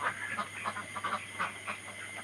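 Egg-laying ducks on a Sherpur farm around 3:50 at night, restless and running about, giving repeated honking quacks in short clustered bursts, moderately near over a steady background hum.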